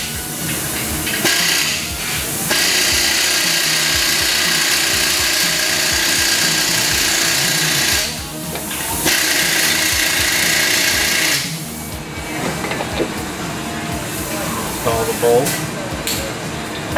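A power tool removes an old front shock bolt on a 2003 Chevrolet Avalanche 1500, a close, loud sustained whir in long stretches broken by short pauses, with a voice talking at times.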